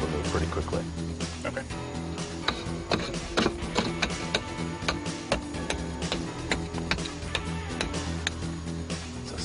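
A pickaxe breaks through a mortared stone wall 30 cm thick at a Maya excavation, with dense rapid scraping and chipping strikes under an ongoing voice.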